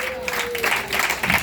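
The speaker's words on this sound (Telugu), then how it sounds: "చప్పట్లు కొట్టండి." A church congregation claps during a Telugu Christian sermon, a loose burst of hand claps rising over a steady room tone with a faint sustained whistle-like tone early on and voices mixed in.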